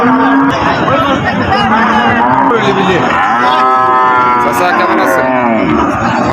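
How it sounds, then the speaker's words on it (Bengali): A cross-breed dairy cow moos loudly and close by at a cattle market, Raniganj haat in Ghoraghat, Dinajpur. Its long, drawn-out calls carry over a constant murmur of the crowd and people talking. "একদম খুব সুন্দর পালন উপযোগী ক্রস জাতের গাভী গরু"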